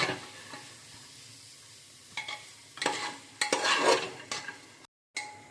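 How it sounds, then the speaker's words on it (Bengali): Chickpeas with spices fry in a pan, a soft sizzle broken by a few scraping bursts of stirring, close and fairly quiet, with no talk. "এবার এটাকে আমি ভালো করে ভাজবো, যতক্ষণ না মশলাগুলো চানার গায়ের মধ্যে লেগে না যায়"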